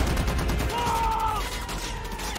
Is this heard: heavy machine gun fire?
yes